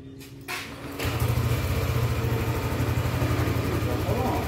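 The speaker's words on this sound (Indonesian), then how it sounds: "Oke, kita nyalakan mesinnya." A Yamaha Lexy scooter with sluggish power on climbs and a high-revving fault is started, its engine catching after a short crank and settling into a steady, close idle with a rapid low throb.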